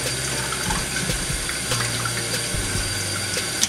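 A makeup brush is rinsed under a running bathroom tap, with a steady close hiss of water and small irregular splashing shifts as the brush moves through the stream.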